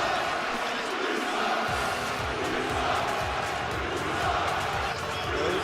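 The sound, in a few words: crowd reaction in WWE 2K18 video game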